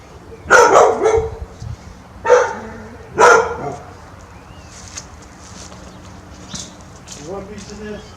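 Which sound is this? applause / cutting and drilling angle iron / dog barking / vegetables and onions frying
dog barking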